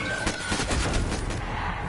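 Rapid gunfire from a zombie video game, a quick string of shots rattling in bursts at moderate loudness over background noise.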